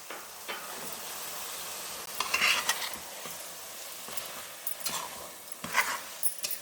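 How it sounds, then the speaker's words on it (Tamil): Chopped tomatoes fry in a pan for mutton biryani, with a steady close sizzle and several scraping bursts as a spoon stirs them; no one speaks. "இப்போ தக்காளி போடலாங்க"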